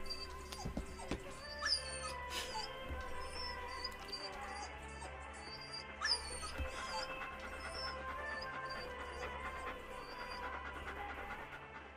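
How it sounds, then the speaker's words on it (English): A dog whimpers and yips softly at the ending of the Silent Hill 2 video game, its thin whines rising and falling over a low, pulsing musical drone, quiet and fairly close, with no talking. "So it was just this dog."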